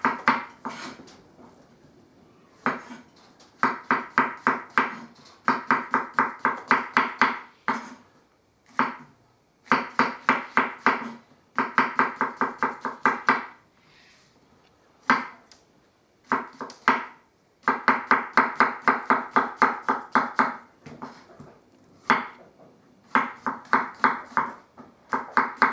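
A knife slices through mushrooms on a cutting board, crisp close chopping strokes in quick rhythmic runs separated by short pauses, with no speech.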